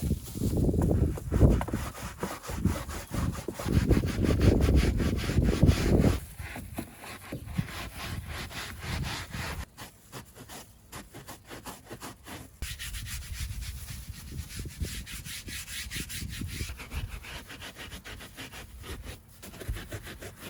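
Scrubbing of a filthy car interior with a brush, a rough, steady back-and-forth rubbing that is loud and close at first, then continues in quieter bursts with brief pauses.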